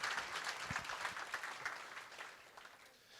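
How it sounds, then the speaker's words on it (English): An audience at a fall college convocation claps steadily in a dense, moderately distant wash of applause that gradually thins toward the end. "let's give them another round of applause"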